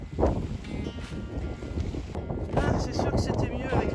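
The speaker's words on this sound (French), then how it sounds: "il y a du vent, il y a carrément des vagues sur le lac de l'Abbaye" Wind blows across Lac de l'Abbaye, which is rough with waves, giving a steady blustery rush and microphone buffeting that swells louder partway through, while someone talks.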